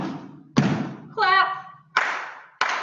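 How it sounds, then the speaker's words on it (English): Feet stomp on the floor during a children's dance storytime routine, three heavy thuds spaced out, with a voice talking between them. "and then stomp"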